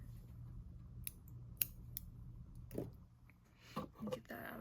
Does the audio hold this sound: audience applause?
no